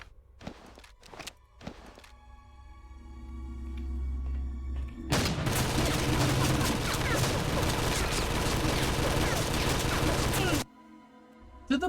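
Gunfire in Wolfenstein: Blade of Agony, opening with a few sharp isolated shots and footsteps, then a loud continuous burst of rapid automatic fire lasting several seconds before cutting off abruptly, followed by one more shot.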